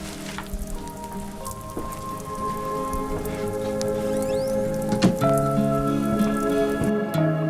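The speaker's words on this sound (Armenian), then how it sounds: "Հեռախոսն էլ թարսի պես անջատել են, բայց շատ ուժեղ այ անձրևը։" Heavy rain falling, a dense continuous patter of drops on surfaces, steady and fairly loud, with sustained tonal background sounds underneath and no talking.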